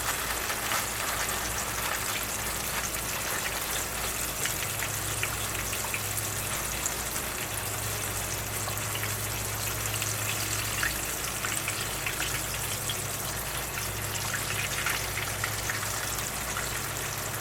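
Floured bone-in chicken leg quarters sizzle and crackle steadily in hot frying fat, a dense, continuous hiss with no talking over it.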